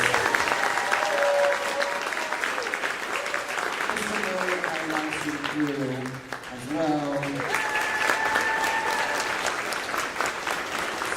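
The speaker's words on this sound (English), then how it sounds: "I just want to give our band a round of applause" A concert audience gives the band warm, sustained applause at an acoustic show, with people talking and cheering over the steady clapping.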